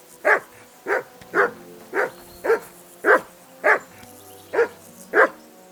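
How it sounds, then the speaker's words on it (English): A dog in Kingdom Come: Deliverance II barks repeatedly at an even pace, nine loud, close woofs about half a second apart, with no talk between them. "That barking was a pain in the ass."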